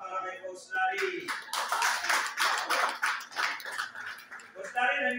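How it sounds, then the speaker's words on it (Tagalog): A lively burst of clapping and cheering for a coach at a testimonial gathering fills the middle of the clip. Voices speak just before the applause and again just after it. "maraming palakpak para kay Coach Larry."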